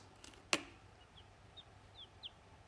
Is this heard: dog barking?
no